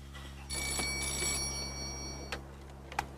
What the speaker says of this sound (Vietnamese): Chờ chút nha Anh Long Điện thoại